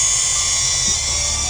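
A steady high-pitched whine of DJI Neo drone propellers, one of them broken, buzzes close by, loud and continuous, with a low rumble underneath.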